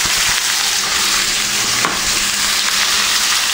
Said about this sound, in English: Add our tomatoes in there. We're going to now add our peppers and our onions.